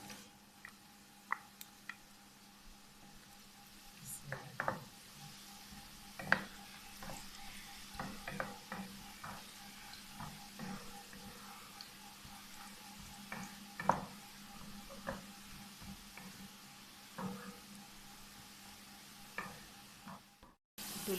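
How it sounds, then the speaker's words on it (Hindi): Carrots frying in oil in a pan make a soft, continuous sizzle broken by frequent spatula scrapes and taps against the pan, fairly quiet and close, with no talking. "अब हम इसमें डाल देते हैं हस्बे ज़रूरत ऑयल। सब्जियों को हम फ्राई कर लेते हैं। सबसे पहले गाजर फ्राई कर लेते हैं।"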